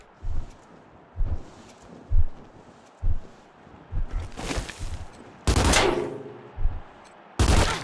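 Gunfire from the video game Wasteland 3, a run of separate shots and bursts, loud and close, with several sharp, heavy blasts near the end and no talk.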